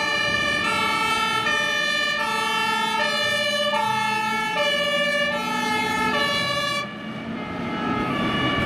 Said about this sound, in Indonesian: Wih, yang ini mobil damkar teman-teman.